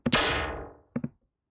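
Tearout gun bass synth hit mimicking a gunshot: one sharp, loud blast with a long decaying metallic tail, then two quicker short hits, no voices.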